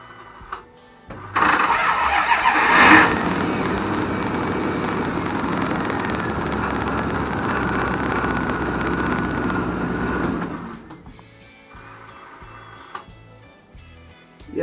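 A Dodge B350 van with a newly installed starter motor cranks and fires up, then settles into a steady close idle rumble for about ten seconds before the engine note drops and fades.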